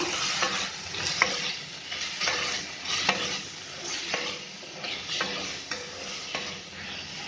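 Tomatoes sautéing in a pan with salt, chilli powder and turmeric, a soft continuous sizzle broken by regular stirring scrapes about once a second, close and moderately quiet.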